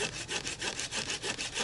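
A saw cuts through wood at a campsite in quick, even back-and-forth strokes, about eight rasping passes heard up close and alone.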